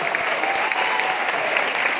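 A large audience at a motivational speech event in Nashik claps loudly and continuously, a dense, even wash of applause with no pauses.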